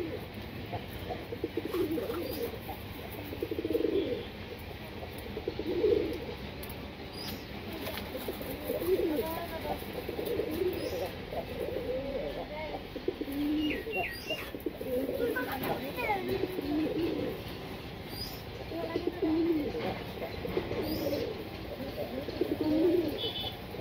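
A pigeon cooing in repeated soft, throaty phrases at a steady rhythm, fairly close, with low background noise between calls.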